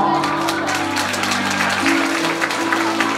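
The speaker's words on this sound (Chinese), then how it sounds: "各位，你们的掌声不能断哦" Dense, steady applause from a crowd fills the whole stretch, loud and continuous, with a low sustained hum underneath.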